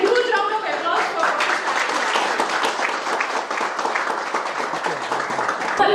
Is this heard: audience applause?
yes